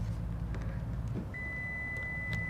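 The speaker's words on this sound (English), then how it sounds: "The BRZ is gonna beep at you because you think you're trying to steal it" A 2022 Subaru BRZ's alarm emits a single sustained electronic beep tone during a door protector install, over low engine-like rumble, faint and steady, with a few soft clicks.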